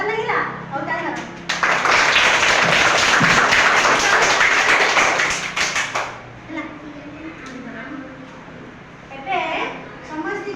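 Children in a classroom activity clapping their hands together, a dense burst of applause lasting several seconds before fading, with a voice speaking after it.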